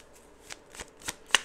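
Tarot cards are shuffled in quick riffling bursts, four or five crisp flicks close by, getting sharper toward the end.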